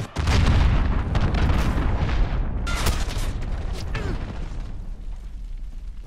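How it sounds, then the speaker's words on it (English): Cruise missile explosions in Call of Duty Modern Warfare land as a heavy close boom, followed by rumbling blasts, debris and mechanical clatter that slowly fade. "Allied cruise missile away."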